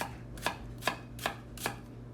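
A knife slicing onion for salsa on a cutting board, four evenly spaced crisp chops about every 0.4 seconds, close and quiet with no talking.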